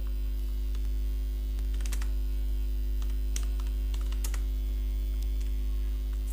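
Someone types a code comment on a computer keyboard, with sparse, quiet keystroke clicks scattered over a steady electrical mains hum.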